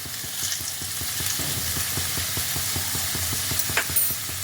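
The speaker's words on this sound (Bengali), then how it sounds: "এবার আলুগুলোকে এপিটোপিট করে ভালোভাবে লাল লাল করে ভেজে নিতে হবে" Stuffed potatoes sprinkled with salt and turmeric fry in hot oil for Kashmiri dum aloo, a steady close sizzle with rapid popping crackles and a light stir or scrape near the end.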